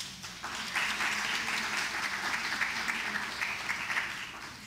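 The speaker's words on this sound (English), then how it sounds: "Please give them a round of applause." An audience applauds steadily for several seconds, a dense wash of clapping from a crowd, with no voices rising above it.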